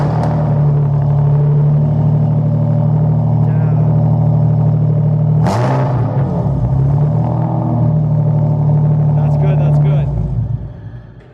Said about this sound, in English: got a new exhaust on it. It is real loud. This is probably one of the loudest cars we have. Should we start it up?